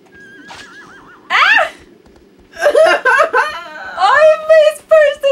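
Agro the horse from the video game Shadow of the Colossus whinnies loudly several times after being spooked, with repeated wavering neighs and a short snort, close and prominent over faint game background.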